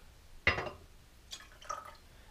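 A wet shaving brush is squeezed out, giving one sharp splashing drip followed by a couple of softer trickling spatters, heard close and quiet, with no talk.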